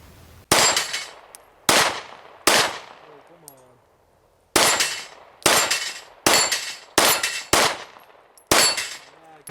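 A Glock 19 pistol, converted from a 23, fired at an outdoor range: nine sharp, loud, close shots in irregular groups, each with a short decaying tail, and a brief quiet pause partway through.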